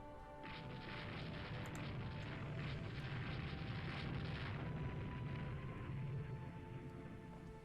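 Torpedo hits on a warship in the naval game Rule the Waves 2, a loud rumbling explosive roar that sustains for several seconds with crackling debris and slowly tails off, no talk.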